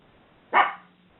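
A small pup lets out a single short, sharp bark, fairly close and alone against a quiet background.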